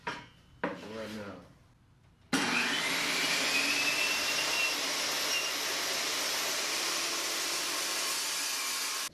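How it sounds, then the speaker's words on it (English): A table saw rips about a quarter inch off the side of a wooden board, a sharp start followed by a loud, steady whining roar that holds alone after a few brief knocks and faint voice sounds. "Now I have my table saw set up. I'm going to rip about a 1/4 inch off each side."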